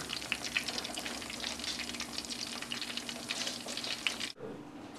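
Schnitzel frying in enough oil to float, a steady dense crackling sizzle heard close and alone, cut off abruptly near the end.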